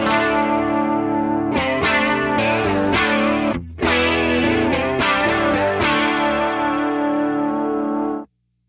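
Electric guitar run through a Warm Audio WA-C1 chorus pedal, its chords given a shimmering, slightly distorted wash; steady strumming for about eight seconds with one brief dip, loud and near, then ringing out.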